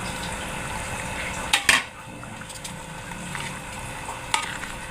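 Shrimp dropped into a cooking pan with malunggay leaves and a little coconut milk, giving a sudden sizzle and clatter of utensil against the pan, then a quieter simmering bubble with another brief stir near the end.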